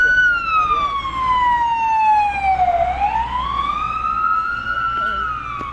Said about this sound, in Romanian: Soarta a făcut ca pe acolo să treacă o mașină de la ambulanță în timp ce se afla în misiune.